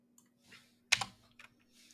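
A few sparse keyboard key taps close to the mic, one sharper clack standing out among softer clicks, with a faint hum beneath.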